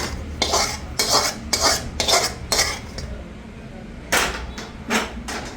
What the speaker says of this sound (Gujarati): હવે અને મિક્સ કરી નાખવાનું.